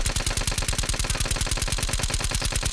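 A submachine gun like an Uzi fires in a video game, a loud rapid-fire burst of evenly spaced shots running continuously with a rattling rhythm.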